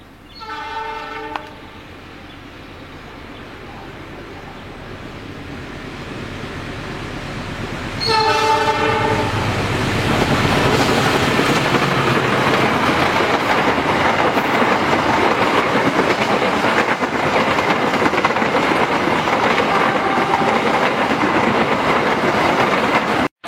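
A passenger train hauled by a CC206 locomotive sounds two horn blasts, a short one and then a longer one, before its loud, steady rolling rumble builds close by and carries on to the end.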